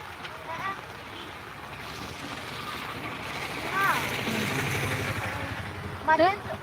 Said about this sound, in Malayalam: നല്ല മഴയാണ് എന്തൊരു മഴ